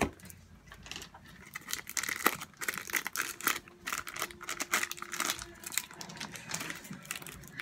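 Crinkling and tearing at taped packaging by hand, irregular bursts of rustle and rip with small clicks, close and fairly quiet.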